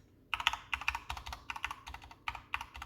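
Keys clatter on a Corsair K65 RGB Mini with a plastic case and Cherry MX Speed Silver switches, in close, crisp bursts of quick keystrokes separated by short pauses.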